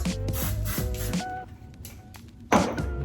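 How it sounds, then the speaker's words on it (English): Several short hissing bursts from an aerosol hairspray can, close by, followed by a quieter pause and one final spray. "I like spraying before I style and then after"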